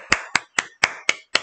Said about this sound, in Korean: 박수 쳐야 되겠어